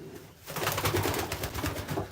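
Racing pigeons coo in a loft, a close, steady murmur of overlapping throaty coos from several birds with some rustling and shuffling noise around them.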